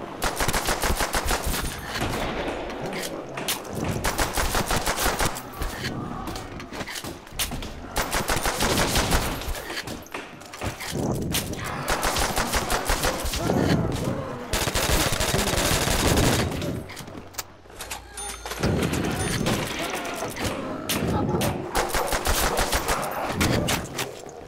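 Rapid automatic gunfire and bursts of shots from a Nazi Zombies shooter game, loud and nearly continuous, with dense overlapping volleys and brief lulls.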